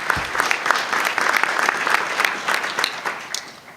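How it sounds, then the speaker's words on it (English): Audience applause at a MICHauto summit event fills the room, steady and fairly loud, with dense overlapping claps for several seconds. "Give yourselves a round of applause,"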